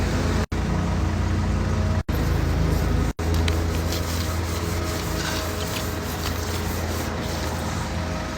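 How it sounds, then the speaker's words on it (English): A rag rubs and wipes across a foggy car headlight sprayed with bug spray, making a continuous close scrubbing and rasping sound broken by three short gaps, while faint traffic noise sits underneath. "And then just wipe it away, feel me? Just wipe it like that."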